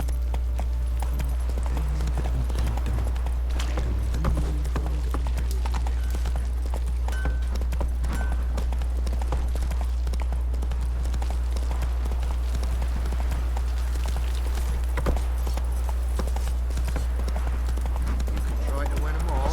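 Hooves of Roach, a horse in Witcher 3, clip-clop steadily throughout over a heavy constant low rumble, with dense game ambience and voices layered on top.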